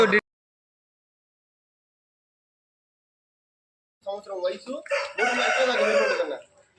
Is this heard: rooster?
yes